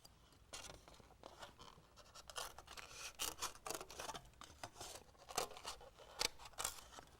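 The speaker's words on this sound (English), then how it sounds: "you notice I turn the plate instead of turning my scissors" Handheld scissors cut through a thin plate for a model airplane in a run of close, crisp snips. The snips come in irregular bursts with quiet gaps where the plate is turned.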